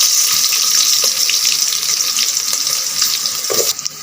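Onions hit hot oil spiced with shahi jeera, cloves and cardamom for egg biryani, giving a loud, steady, close sizzle that fades slightly toward the end, with no talking.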